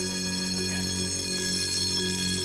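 An alarm bell rings loudly and without a break during a compact fluorescent light bulb test, a steady tonal clangor that holds at the same level throughout.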